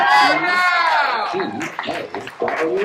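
A theater audience claps and cheers for a band being introduced at a live game show, with loud, dense crowd noise, whoops and shouts swelling up together, then tapering into scattered claps and voices.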